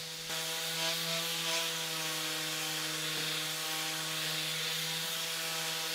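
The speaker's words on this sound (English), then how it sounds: "Then using a 120 grit and my Bosch sander, I sanded the larger areas of the desk." A Bosch sander with 120 grit paper works across a wooden desk, giving a steady, close motor hum with an even rubbing hiss throughout, no voices.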